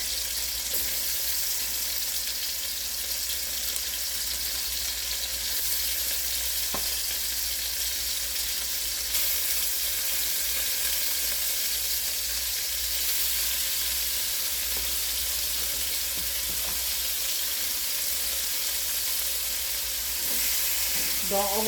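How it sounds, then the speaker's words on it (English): Pieces of pork browning in a pot for stew give off a steady, loud, unbroken sizzle and crackle of frying that lasts throughout, with no talking. "Don't overcrowd your pot because you want to make sure you get that browning on it."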